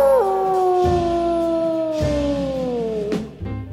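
A voice imitates the long, wavering howl of a lagahoo, a werewolf-like creature from folklore, rising and then sliding slowly downward over about three seconds, loud and close.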